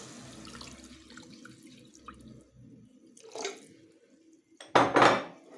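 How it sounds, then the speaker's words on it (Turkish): Cold water is poured into a pot of fried tomato paste on the stove, a short hiss and splash near the end, after quiet clinks and faint kitchen sounds. "Hemen üzerine bir miktar şöyle soğuk suyumuzdan et döküyorum."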